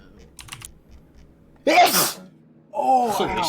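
A single loud, sharp sneeze bursts out close to the microphone after quiet keyboard tapping, and a second loud vocal outburst follows a moment later.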